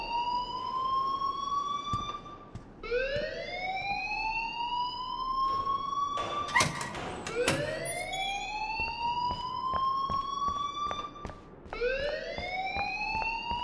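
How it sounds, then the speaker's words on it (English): A loud, wailing school alarm in Life Is Strange sweeps upward and holds in repeated cycles, steady through the whole stretch, with a brief spoken line and a scuffle of other noises in the middle. "please turn off that alarm since that's your job"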